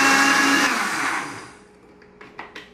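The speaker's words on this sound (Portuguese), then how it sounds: "E nós vamos bater agora nossos ingredientes por aproximadamente 10 minutos, ou até que ele tome a consistência de mousse." A kitchen blender whirs loudly as it beats mango mousse ingredients, then winds down and stops, followed by a few faint clinks. No one speaks.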